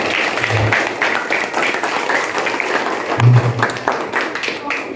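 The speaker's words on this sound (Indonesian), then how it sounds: "Tepuk tangan." Applause from parents and guests at an elementary school project exhibition in Bogor, a continuous dense patter of hand claps at moderate volume with no voices over it.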